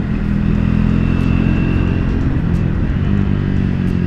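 A Triumph Speed 400 motorcycle cruises steadily with a continuous low engine drone and wind rush, loud and close, holding an even pitch throughout with no speech.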